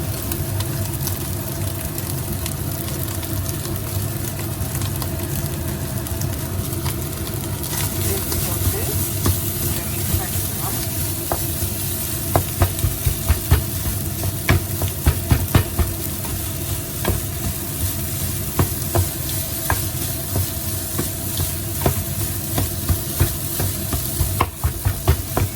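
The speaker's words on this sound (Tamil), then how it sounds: "ஸோ இனி வந்து நாங்கள் எங்களோட இடியப்பத்தை போட்டுடலாம்." Idiyappam string hoppers are tossed into a pan and stir-fried, with a continuous soft sizzle, repeated spatula taps and scrapes, and a low steady background hum.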